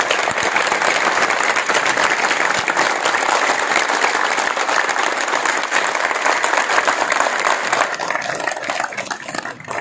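A large audience at a ceremony welcoming new members into a community group claps continuously, a loud dense roar of applause that holds steady throughout with only a slight easing near the end.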